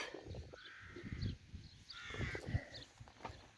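Several crows caw repeatedly at a moderate distance over a vegetable garden, harsh calls scattered over low background rustling and handling noise.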